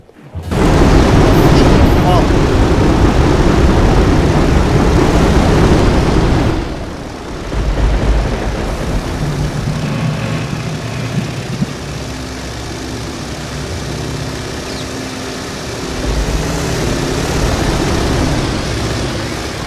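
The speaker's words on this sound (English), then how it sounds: "Now dive bombers are on their way to go ahead and start bombarding the coastal line right here" A dive bomber in the Victory At Sea naval strategy video game roars loudly overhead with a dense engine drone that drops off, followed by a steadier, quieter rumble and faint booms.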